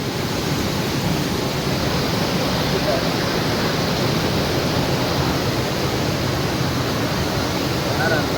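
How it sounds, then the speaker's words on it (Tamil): Hogenakkal waterfall, water pouring down over rocks, a dense, steady roaring rush that stays loud and unbroken throughout, with faint voices underneath. "அப்படியே ஒரு பாறையிலேருந்து தண்ணி அப்படியே வருது"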